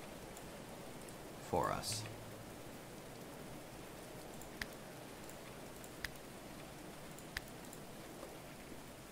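Steady rain falls in the medieval colony-building game Going Medieval on a rainy night, a continuous soft hiss with occasional faint ticks, and one short spoken phrase near the start.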